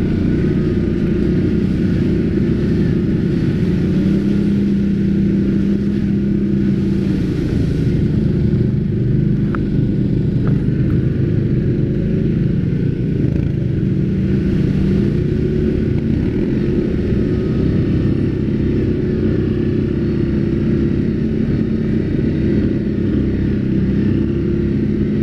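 A motorcycle that had sat unstarted for a couple of months runs with a steady, loud low rumble from start to finish, no voices over it.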